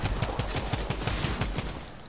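Rapid bursts of automatic gunfire in the battle royale game Fortnite, a steady rhythmic stream of shots ringing out loud and close, with no talk over them.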